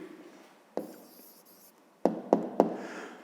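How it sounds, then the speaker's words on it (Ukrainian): Pen writing out a math answer by hand on paper: a faint scratchy scrawl, a sharp tap as the pen touches down, then three quick taps close together, near and quiet with no voice. "Записуємо відповідь."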